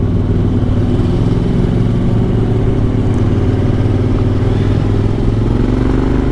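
Motorcycle engine and exhaust on the move during a touring ride, a loud, continuous rasping drone with pulsing low-end throb and slight clatter, steady and close for several seconds.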